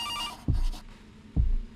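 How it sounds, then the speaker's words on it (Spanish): A telephone rings loudly in a horror video game, a brief electronic trill followed by two heavy thumping pulses, alone with no voices. "Ay, suena re fuerte el teléfono, amigo."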